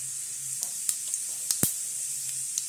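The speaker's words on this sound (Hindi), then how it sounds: "पैन में मैंने 3 बड़े चम्मच तेल गरम कर लिया है। अब उसमें ऐड करेंगे जीरा" Cumin seeds sizzle in hot oil in a pan for a bitter gourd sabzi, a constant bright hiss punctuated by several sharp pops and crackles, close and without talk.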